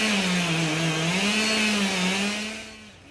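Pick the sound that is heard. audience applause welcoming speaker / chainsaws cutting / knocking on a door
chainsaws cutting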